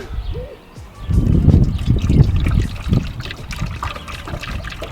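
Water trickles and gurgles through a funnel into a container for a Rabbit pickup, a steady close pour with soft splashing and a few handling knocks, no voices.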